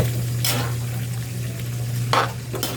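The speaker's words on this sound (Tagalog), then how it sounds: "Lalagyan na natin itong hipon." Shrimp go into a hot pan for a coconut-milk shrimp and mussel dish, a continuous sizzle broken by two sharp stirring scrapes and bursts of frying noise.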